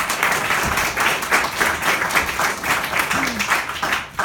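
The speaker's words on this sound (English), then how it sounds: "let's give him a round of applause" An audience applauds a performer at a foundations performance, sustained crowd clapping running steadily for several seconds with a faint voice briefly heard underneath.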